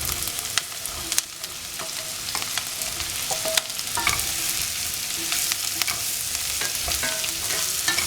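Raw banana pieces dropped into hot frying oil with cumin for a Sivakasi-style vandi vazhakkaai dish give a steady, close sizzle with scraping stirring throughout, no voices.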